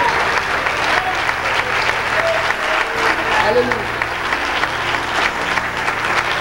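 Church congregation applauding in praise during a Spanish-language sermon, steady dense clapping throughout with voices calling out over it.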